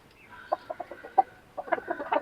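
Desi hens cluck inside their coop, a series of short, close clucks in quick irregular bursts, growing busier toward the end.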